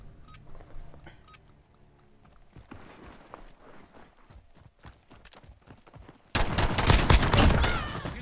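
Pistol shots in a Modern Warfare 2v2 match, a string of sharp, fairly faint cracks through the first few seconds, then a loud sustained burst of gunfire and impacts near the end.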